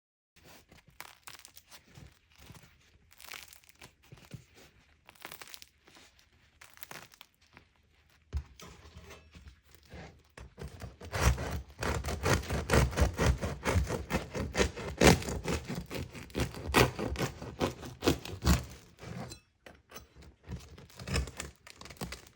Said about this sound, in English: you can just hear the lovely crunch of the bread as I squeeze and cut into it